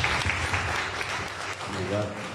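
A short burst of applause breaks out at the close of a talk on the role of publishers, steady and fairly close, with a voice starting to speak as it winds down.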